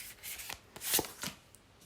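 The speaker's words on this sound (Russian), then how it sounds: "Итак, выкладываем 3 позиции, 3 карты." Tarot cards are laid out on a table for a reading, three soft slaps and swishes of cards set down one after another, close and quiet with no talk.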